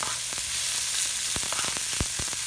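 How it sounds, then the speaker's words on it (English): Chopped onion frying with garlic in a hot pan, a steady close sizzle with a few sharp crackles and pops throughout, no voices. "adding my one large chopped onion."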